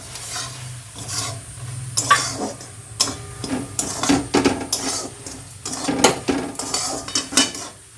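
Roasted semolina is stirred with a metal spatula in a pot of melted sugar for palm-fruit payesh, making irregular scraping and clinking strokes against the pot, close and fairly loud, with no talking.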